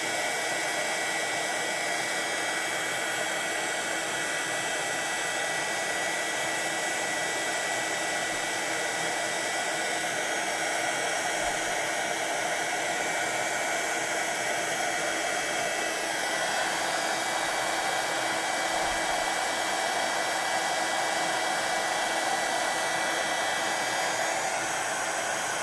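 A handheld craft heat tool blows hot air to bake a coating onto a mixed media box project, giving a steady, close, whooshing roar that holds an even pitch for the full stretch without any talking.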